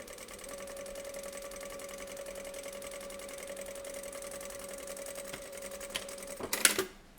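A sewing machine runs a seam on a homemade N95-style mask made from sterilization wrap, giving a steady, even mechanical whir that lasts several seconds before a brief louder clatter at the end.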